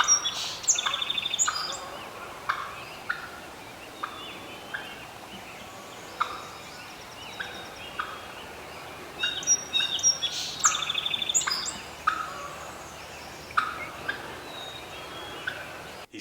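A wild turkey gobbles repeatedly during a spring turkey hunt in Canada. The bursts come loud and close at irregular intervals, mixed with other chirping bird calls, and no one speaks.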